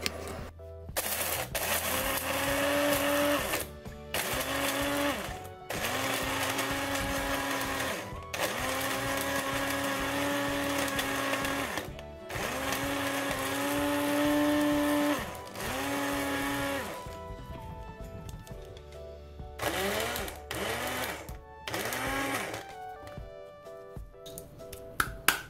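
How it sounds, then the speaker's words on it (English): Blender grinding anhydrous sodium citrate chunks into powder, a loud steady motor whine running in long bursts separated by brief stops, with rattling as the solid is pulverized. "Hence, I put it in a blender to powder it."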